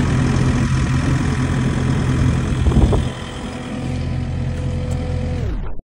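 Skid steer loader engine running while stuck in soupy swampland mud during wetland grading, a loud steady mechanical drone with a brief rise in effort near the middle before settling back to a lower idle, then cutting off.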